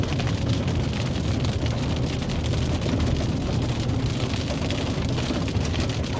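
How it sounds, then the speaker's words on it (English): A messy hailstorm with rain gives a steady, even hiss of falling rain and hail from start to finish, with no voices. "It's just kind of a messy hailstorm."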